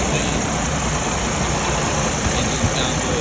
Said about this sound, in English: Engine sounds really nice.